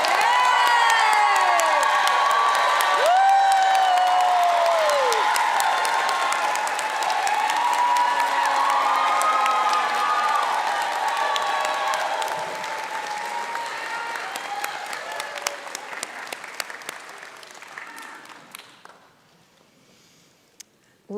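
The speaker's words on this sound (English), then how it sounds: "please give them a round of applause" Commencement crowd at a university art practice graduation breaks into sustained applause with cheers and whoops, loud and dense at first, then thinning into scattered clapping that fades out near the end.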